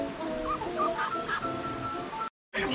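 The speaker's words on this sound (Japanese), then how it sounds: "コールダックのナイトプールパチャパチャ行きます" Call ducks at a night pool in Noth Safari Sapporo zoo give short, close, nasal calls over a steady background murmur, with a brief silent gap near the end.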